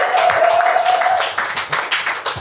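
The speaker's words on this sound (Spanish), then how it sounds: "un aplauso, por favor, para nuestros invitados de hoy" Studio audience at a late-night comedy show applauds the guests with loud, dense clapping that thins into scattered claps, and a whistle rings out at the start.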